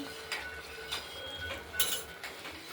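Cabbage, potato, pea and tomato curry being stirred in a pot, with soft scraping and light metallic clinks of a utensil against the pot in an irregular rhythm and one brighter clink, quiet and close.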